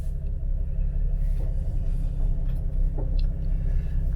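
A Jeep TJ fitted with a rebuilt NSG370 gearbox creeps forward in first gear, giving a low, steady rumbling drone from inside the cabin with a few faint knocks over it.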